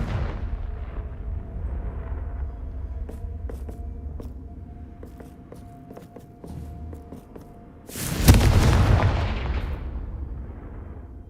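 Confringo blasting spell in Hogwarts Legacy: a single loud explosive burst that rumbles and fades, after a stretch of quieter game ambience with light clicks.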